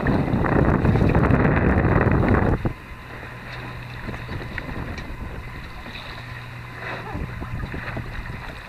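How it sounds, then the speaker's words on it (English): Gusty wind buffets the microphone aboard a reefed Rob Roy 23 sailboat on Lake Murray, with a loud roaring burst at first that eases into quieter wind and water sounds around the boat. "So it's getting a bit gusty just here."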